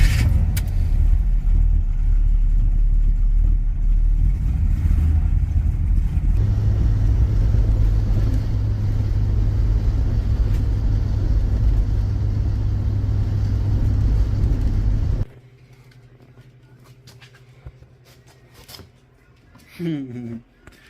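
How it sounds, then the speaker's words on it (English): A Jeep engine runs steadily up close for about fifteen seconds, with a deeper hum rising midway, then cuts off and leaves a quiet room with faint scattered sounds. "I hooked up the Jeep to it, so I guess let me see if it'll turn this motor."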